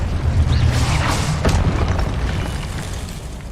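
An Expelliarmus spell fires in Hogwarts Legacy, a loud booming burst with a rumbling, crackling tail that fades over a few seconds.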